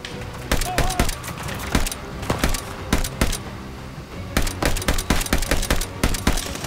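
Repeated bursts of automatic and semi-automatic gunfire from the Call of Duty Vanguard campaign crack loudly and close, in rapid clusters separated by short lulls.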